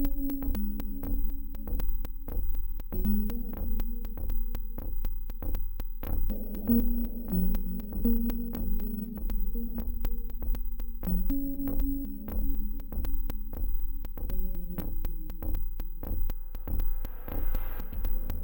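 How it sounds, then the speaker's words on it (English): A Makita brushless-motor air blower runs while cleaning graphics card parts, giving a steady, droning motor hum with a rapid pulsing throb and a faint rising whine near the end. "And then blow this one with the air blower as well."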